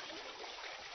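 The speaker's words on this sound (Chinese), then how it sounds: "果然我们听到水流在假山的各种空腔和管道中发出了高低不同的声音" Water running through the hollow cavities and pipes of an artificial rockery, a brief, faint, continuous rushing gurgle with no voices.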